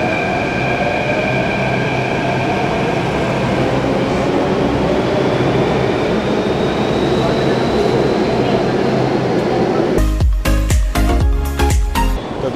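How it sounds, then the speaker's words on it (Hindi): A metro train pulls out of a station with a loud, continuous rumble and wheel roar that swells and holds close by. Near the end, a few sharp knocks and clatters cut in abruptly. "देख सकते हो अभी जाएगी मेट्रो, जा रही है जा रही है जा रही है"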